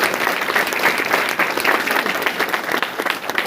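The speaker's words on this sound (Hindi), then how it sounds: "उनके लिए एक बार जोरदार तालियां।" An audience claps for Pratap Singh Rawat at an RCM business talk, a dense, steady burst of applause close to the microphone that lasts the whole moment.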